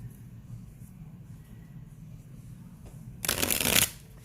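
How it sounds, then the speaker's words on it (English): Happy Tarot deck being shuffled, a short loud riffle-like burst of card shuffling after a quiet stretch of faint room noise and low hum. "Shuffle that up a bit."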